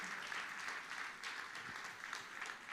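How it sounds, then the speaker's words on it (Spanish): Steady applause from a church congregation, continuous clapping with a dense, even texture at moderate distance, no talking over it. "Fuerte ese aplauso de alabanza al Señor."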